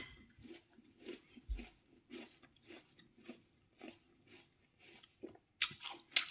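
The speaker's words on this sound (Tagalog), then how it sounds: "Very crunchy apple." A crunchy, juicy apple is bitten and chewed up close: a steady run of crisp, wet crunches, with a louder bite near the end and no talking.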